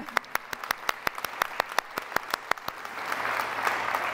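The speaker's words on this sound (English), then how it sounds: "Yay, applause for everybody for sure." Audience applause at a school district's State of the District event, a run of distinct claps in the first seconds swelling into a denser, sustained ovation, moderately distant.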